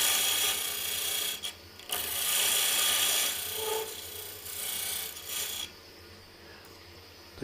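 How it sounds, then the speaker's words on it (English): A square roughing gouge cuts down the diameter of a wood blank spinning on a lathe while turning a corzetti pasta cutter, giving a continuous loud rasping scrape that breaks off briefly a few times and then drops to a quieter hum. "I'm just using the square rougher. Bring that diameter down."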